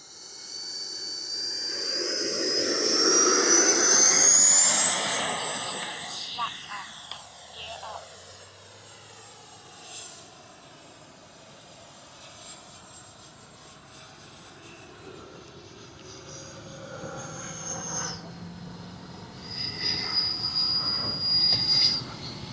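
An FMS 80mm F-86 radio-controlled model jet takes off, its whine climbing loud and sharp over the first few seconds before fading into a distant, softer drone as it moves away.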